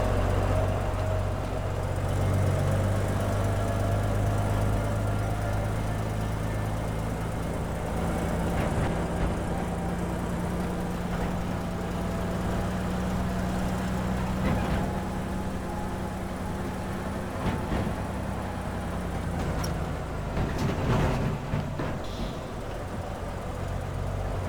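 A car engine in the game Teardown drones steadily as the vehicle drives, a continuous mid-pitched hum with a few clunks and knocks along the way.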